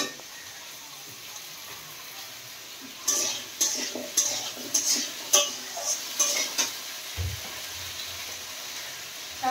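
Taro pieces frying in a hot pan at home, with steady sizzle and repeated close scraping stirs over a soft background hiss, plus a brief low knock near the end.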